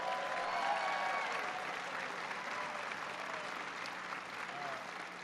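A crowd at a speech on American infrastructure gives a big round of applause for Secretary Fox, a steady, dense roar of clapping that continues evenly throughout.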